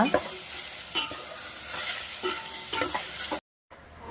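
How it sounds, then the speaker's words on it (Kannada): Prawns and onions fry in a pan, meant to cook until reddish, giving a steady close sizzle broken by scraping stirs, with a brief dropout near the end. "ಇದು ಅಷ್ಟೇ ಸ್ವಲ್ಪ ರೆಡ್ ಆಗೋ ಥರ ಫ್ರೈ ಮಾಡ್ಕೋಬೇಕು."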